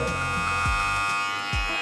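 An electric beard trimmer buzzes steadily and close, with a high whine and small dips in pitch as it works through hair, running alone without talk.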